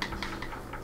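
Quick typing on a computer keyboard, a steady run of close, crisp key clicks with no talking.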